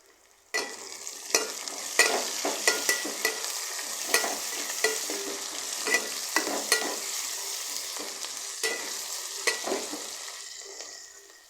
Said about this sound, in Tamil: கருவேப்பிலை கொஞ்சம் போட்டுக்கலாம்.